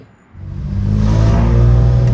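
A 1974 Dodge Dart Swinger pulls away, its engine rising from a brief lull into a steady, loud, low rumble recorded from inside or right beside the car.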